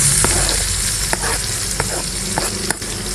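Onion fries in a pan with a loud, constant sizzle close by, marked by a few sharp spatula scrapes at irregular intervals, and no talking.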